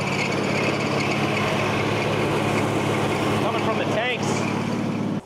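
A 1979 GMC dually truck's engine runs steadily up close, a continuous loud idle rumble with a brief change near the end before cutting off abruptly; a voice may be faintly present underneath.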